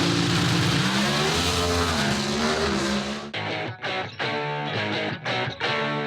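A Hemi-powered Dodge drag racing car launches hard off the starting line at an NHRA event, a loud, distorted engine roar that holds steady, then breaks into rapid revving bursts as the throttle cuts in and out.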